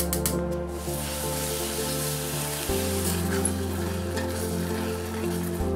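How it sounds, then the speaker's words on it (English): Blueberries and sugar heating in a pot: a steady low bubbling simmer with a faint sizzle and occasional soft stirring, close and even, with no talking. "Add the blueberries and sugar in a pot and heat them up until the sugar melts"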